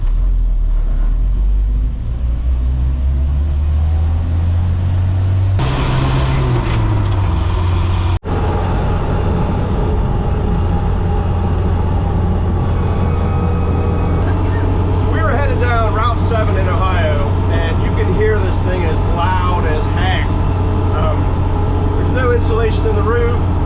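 Land Rover cruising on a highway at about 100 km/h, a loud continuous road and engine roar with wind noise filling the cabin, a voice talking over it throughout.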